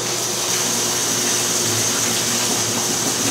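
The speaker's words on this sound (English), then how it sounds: "Now we've got to add water, room temperature water." Room-temperature water pours in a steady rushing stream into a container for mixing black-and-white film chemistry, loud and continuous with a broad hissing gush throughout.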